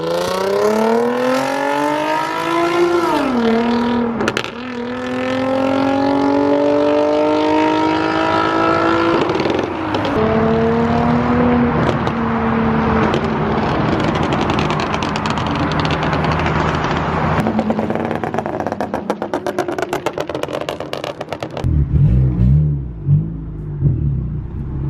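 A turbocharged ninth-generation Honda Civic revs hard and loud for a long stretch, engine climbing and falling in repeated pulls with rough crackle, then dropping to a rumbling idle near the end.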